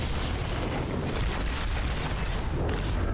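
A grenade goes off in the shooter game Halo 2: Anniversary, a dense, rumbling blast that fills the whole stretch with loud, sustained noise and no voices.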